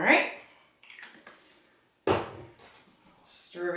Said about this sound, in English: stir everything up